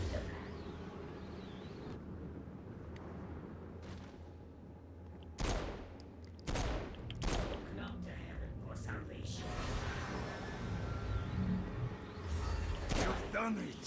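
Pistol shots ring out against an enemy in a video game, a burst of sharp reports mixed with layered game effects and explosions under a steady wash of in-game noise.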